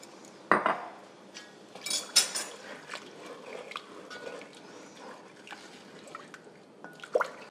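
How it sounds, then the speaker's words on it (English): Homemade broth goes into a hot soup pan to deglaze the browned bottom, producing a faint sizzle and liquid hiss with a few clinks of a utensil scraping and tapping against the pan. "I'm gonna use my homemade broth to deglaze the bottom of the pan."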